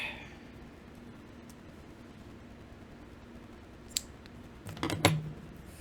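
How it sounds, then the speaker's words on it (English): A pair of scissors snips yarn during crochet work: a few quick close clicks near the end after a quiet stretch of faint background hiss. "take a snippy snip"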